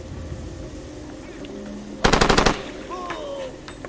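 Machine gun fire raking a tree in Far Cry 2: a single loud, tight burst of about eight rapid shots lasting half a second, set against quiet ambient game sound, with faint chirps afterward.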